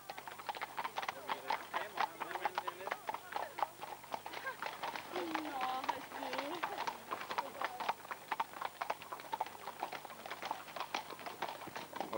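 Horses trot during a Hubertus hunting ride at Ålholm, with steady, overlapping hoof clip-clops throughout and voices talking over them.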